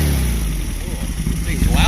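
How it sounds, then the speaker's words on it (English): A Baja engine fitted with Weber IDF 48 carburetors idles close by in a steady, loud, low rumble with a slight uneven throb, and a voice talks over it. "Dialed in my idle and my carb."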